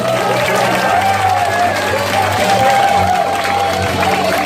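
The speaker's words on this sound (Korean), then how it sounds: "큰 박수를 부탁드리겠습니다" A crowd at a campaign office opening for a mayoral candidate claps and cheers loudly and continuously, with a low hum and some voices mixed in beneath.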